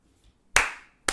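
Two sharp hand claps ring out alone in a quiet room, the first one louder with a short decaying tail and the second coming about half a second later.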